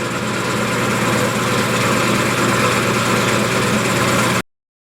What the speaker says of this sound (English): Alright, just finish scraping this down.